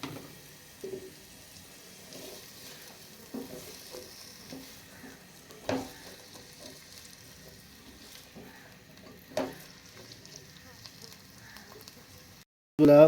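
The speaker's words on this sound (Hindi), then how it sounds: "इसमें जाएगा अभी प्याज, इसको अच्छी तरह से ब्राउन करेंगे।" Sliced onions fry and brown in hot cooking oil for a rajma curry, a soft continuous sizzle broken by scraping stirs and clatters of a spoon against the pan.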